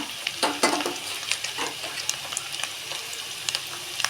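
Ground spice pastes of chilli, coriander, cumin, ginger and garlic fry and get stirred hard in a pan, a bright sizzle broken by repeated scraping spoon strokes and light clicks against the metal.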